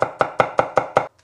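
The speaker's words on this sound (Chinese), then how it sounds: "大蒜去皮之后剁一下" A knife chops peeled garlic on a board, six sharp evenly spaced thuds in quick succession, close and crisp, then stopping.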